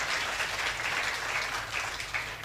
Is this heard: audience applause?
yes